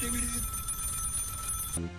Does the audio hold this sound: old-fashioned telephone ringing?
yes